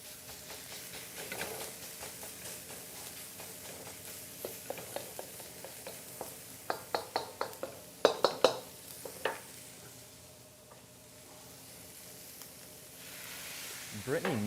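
Salt cooks on a hot griddle to burn off residue, giving a steady low sizzle broken by bursts of scraping and clicking from stirring, close and moderately quiet.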